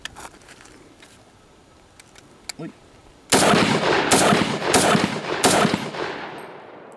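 An Ensio Firearms KAR-21 multicalibre rifle fires .308 rounds outdoors in a rapid string of about five loud, sharp cracks, each followed by a short ringing echo, after a quiet lead-in with a few faint clicks.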